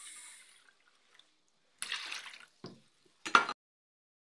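Warm water for chapati dough is poured in short separate bursts, a few quiet splashes and trickles with silent gaps between them.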